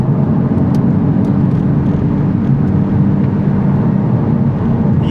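Honda FL5 Civic Type R in comfort mode driving through a turn, a loud steady low engine drone and road roar heard from inside the cabin, continuous with no breaks.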